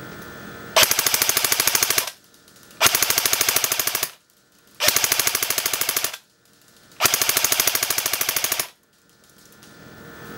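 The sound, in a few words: gun firing repeatedly at a 200-foot target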